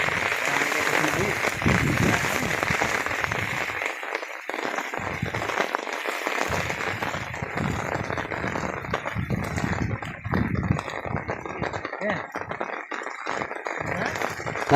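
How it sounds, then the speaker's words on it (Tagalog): Heavy rain falls in a steady, dense hiss and patter that fills the whole stretch, with people talking now and then over the downpour. "Malakas ng ulan."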